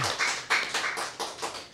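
Audience applause, the performer's hand skills cheered after a music performance, a short burst of quick rhythmic claps swelling in waves, moderately close and with no talk.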